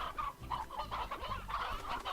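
Painted hens in the video game Slime Rancher cluck with soft, repeated murmuring clucks that overlap fairly quietly over a low background hum.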